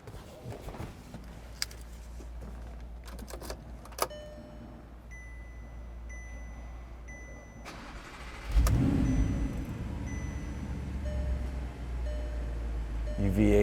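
A 2014 Audi R8 V8 starts after some clicks, small clunks and a brief chime, then its engine catches with a loud burst and settles into a deep, rumbling idle close by.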